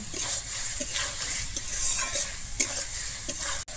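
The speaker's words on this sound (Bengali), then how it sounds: "আমি কিন্তু এখানে এক মিনিটের মতো কিন্তু এখানে কষিয়ে নেব" Fried steamed-egg pieces are stirred into spice masala in a pan for Bengali bhapa dim curry. A steady close sizzle runs throughout, with a few sharper scraping strokes of the spoon against the pan.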